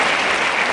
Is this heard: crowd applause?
yes